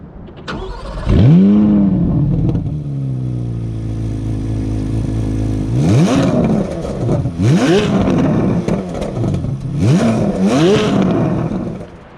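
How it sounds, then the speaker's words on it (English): A 2024 Chevrolet Corvette Z06 Convertible engine starts with a sharp bark, settles into a rumbling idle, then revs hard through an open exhaust in repeated loud, close bursts. "we'll open up the exhaust and let you guys hear it."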